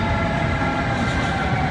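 EuroCity Wawel train to Kraków rolling out of Berlin Hauptbahnhof: a steady, loud rumble of moving rail cars with a faint tonal hum running throughout, no voices.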